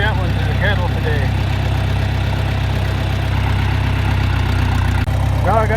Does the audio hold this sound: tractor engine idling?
yes